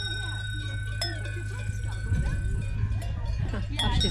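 Cowbells on grazing cows in the German mountains ring continuously in irregular clanks, with a steady low hum underneath and people talking nearby.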